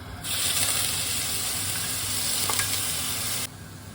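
Chopped onion hitting hot oil with browned cumin seeds lets out a loud, close, continuous sizzle that starts abruptly, holds steady for about three seconds with a few stirring clicks, then cuts off.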